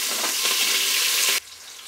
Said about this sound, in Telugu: ఆయిల్ వేలెక్కిన తర్వాత కొద్దిగా ఆవాలు కరివేపాకు ఎర్రగడ్డ అండి ఆనియన్స్ వాడుతున్నా ఇప్పుడు దీన్ని కొద్దిగా ఫ్రై చేసుకున్నాను